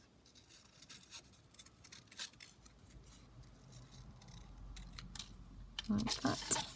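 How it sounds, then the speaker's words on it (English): Scissors snip around a small paper circle cut from a Primark paper bag, giving soft crisp snips with rustling and handling noises, close and fairly quiet, ending in a few sharper cuts. "we'll cut a circle"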